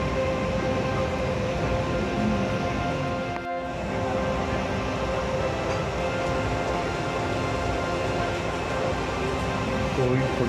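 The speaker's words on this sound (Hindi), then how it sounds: "ट्रेन अपनी पूरी रफ्तार से" Passenger train heading toward Dimapur on the Guwahati line, running at full speed with a steady loud rumble and clatter of wheels on rails throughout, continuous and close, with no speech.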